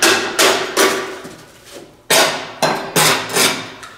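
A scraper strikes and scrapes dried grass caked under a Gravely mower deck. The sharp, loud, close impacts come in a quick irregular series, each ringing briefly, with a short pause midway.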